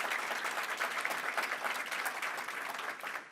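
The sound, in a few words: audience applause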